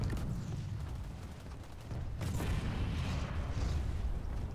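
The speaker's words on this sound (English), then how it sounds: "Some random explosions." Explosions in the online shooter Planetside 2 come as muffled, distant booms and rumbles over a low mechanical background, with a sharper burst midway through and no talking.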